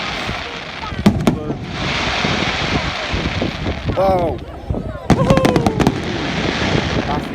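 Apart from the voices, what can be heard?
fireworks exploding over Poole Quay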